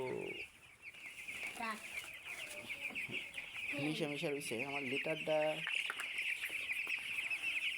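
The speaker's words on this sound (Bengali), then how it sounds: "কত শক্তিশালী গঠন আর চঞ্চল প্রত্যেকটা মুরগি" Hens in a poultry shed with litter on the floor cluck busily and continuously, with a few louder bursts of calls, while someone talks over them.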